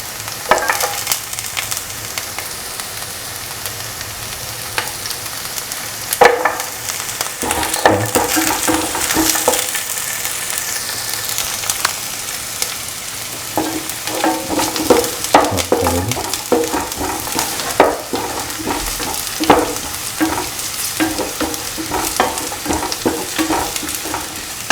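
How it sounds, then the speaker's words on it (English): Garlic sizzling in a hot pan while being stirred, a steady close hiss of frying with repeated scraping and clinking of a utensil against the pan throughout, no voices. "Put in the garlic."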